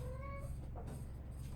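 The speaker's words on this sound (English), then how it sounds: "I don't know if you can hear a cat meowing in the background." A cat meows in the background, with one drawn-out rising and falling call near the start over a low steady hum in a quiet room.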